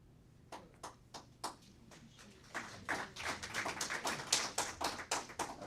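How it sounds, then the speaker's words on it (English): Scattered claps from a board of education meeting audience start sparse and build into steady, moderately close applause over several seconds, with no talking. "I think that's the first time I've had anyone clap for me in a very, very long time."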